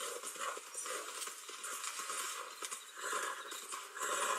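Horse hooves clip-clop at a walking pace while a rider moves along, a faint, steady patter of light irregular steps with no talk.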